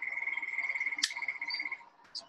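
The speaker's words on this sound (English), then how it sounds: "There's a gray tree frog calling there." A gray tree frog calls outdoors in a steady rapid trill of pulsed notes for about two seconds, fairly close and clear, with a brief bird chirp cutting in.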